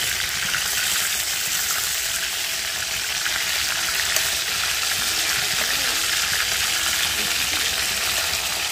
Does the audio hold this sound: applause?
no